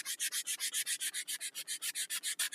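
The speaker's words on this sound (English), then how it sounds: "Now imagine taking it from here and sanding it down so it's super smooth." Rapid rhythmic hand sanding on wood, about eight strokes per second, a close, steady raspy scraping with no talk.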